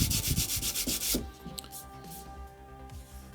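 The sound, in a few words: sanding plastic by hand with sandpaper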